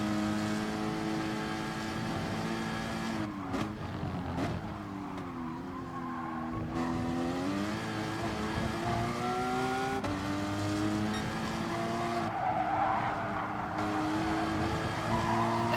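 A Porsche Cayman Gr.4 race car lapping Laguna Seca in Gran Turismo Sport, its engine droning loud and steady, pitch climbing through gears and dropping under braking, with brief tyre squeal and no talk.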